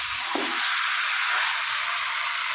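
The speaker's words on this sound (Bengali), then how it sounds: "তো দেখো, চিকেনটা কষাচ্ছি, অনেকক্ষণ থেকে কষাচ্ছি" Chicken sautéing in a hot pan gives a loud, steady sizzle that fills the whole stretch, with a brief scrape of stirring near the start.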